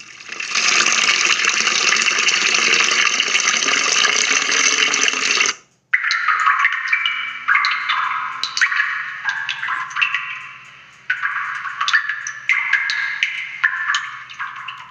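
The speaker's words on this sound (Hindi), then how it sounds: "पानी की बूंदें गिरते हुए आवाज़" Water drops falling, single drips landing one after another as short, bright plinks in an irregular rhythm, close and clear. A loud, steady rush of water pouring from a pipe comes first, then stops.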